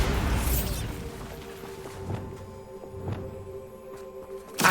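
Bombarda blast spell from Hogwarts Legacy, a game: a broad burst at the start decays into a ringing tonal tail with a few dull thuds spaced about a second apart, ending in a sharp hit.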